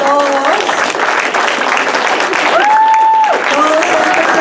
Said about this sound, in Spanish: Al frente, por favor, un aplauso bien grande para todos.